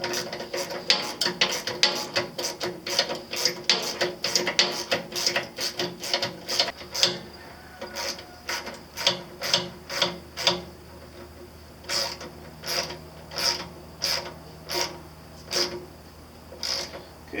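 A ratchet wrench snugs bolts during assembly of a Harbor Freight Predator 212cc 6.5 hp chipper shredder, with rapid close clicking bursts that thin into separate spaced ratchet strokes.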